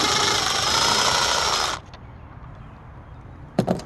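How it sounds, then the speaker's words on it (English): A power screwdriver whirs loudly for under two seconds while backing out a screw on a GMC Envoy tail light housing, then stops, followed by quiet handling and a short metallic clatter. "what you want to do is just unscrew these two screws"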